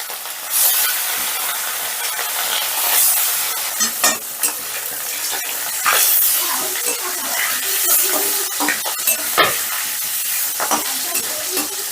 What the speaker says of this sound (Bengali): এবারে একইভাবে বাকি মাছগুলো ভেজে নিচ্ছি